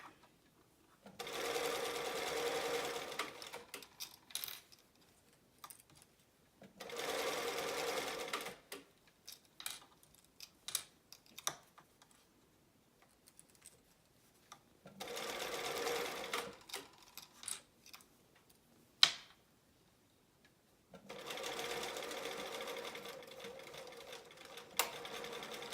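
A sewing machine stitches a fabric keychain wristlet in four separate runs of rapid, close mechanical chatter, with quiet pauses in between filled by small clicks and handling sounds.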